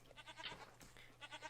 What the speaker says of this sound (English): Goats, please behave yourselves.